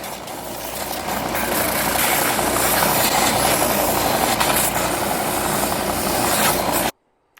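Continuous loud grinding and rasping of a power sander, steady and uninterrupted for about seven seconds before cutting off suddenly.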